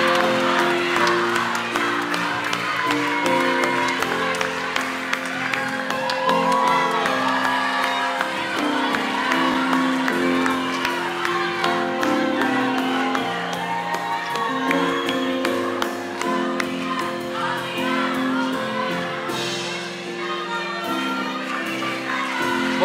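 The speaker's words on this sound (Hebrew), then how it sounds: "ועכשיו קבלו אותה במחיאות כפיים סוערות" Applause and cheering from the audience at a national youth Bible quiz ceremony, a steady crowd roar with whoops, blended with loud music playing throughout.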